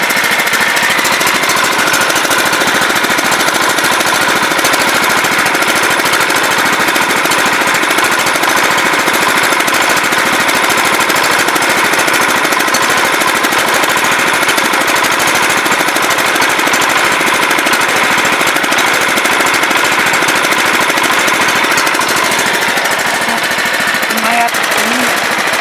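A John Deere LT150 hydrostatic lawn tractor engine runs steadily at close range, a loud, constant rattling drone that holds unbroken for the whole stretch, with a voice faintly under it.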